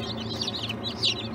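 Newly hatched chicks in an incubator give high, brief peeping chirps in a couple of quick bursts over a low steady hum.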